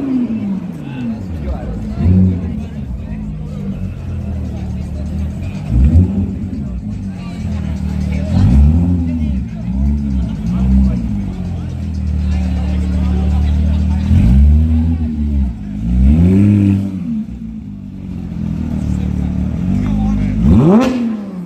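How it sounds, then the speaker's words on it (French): An Alpine sports car arrives at the Gumball 3000 2022 rally gathering, its engine revving up and down in repeated bursts over a steady background of crowd chatter. "Oh, la Alpine, elle est venue."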